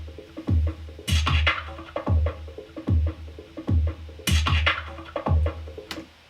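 Original drum beat loop used as raw sample material for a studio production: punchy kicks with a sustained low bass tone, snappy snares and hats, in a steady repeating groove, loud and alone without any voices.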